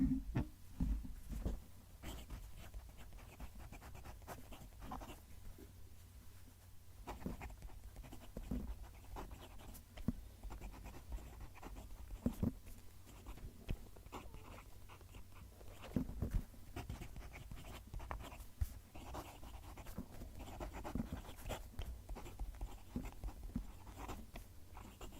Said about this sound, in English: hopefully you can hear the pen writing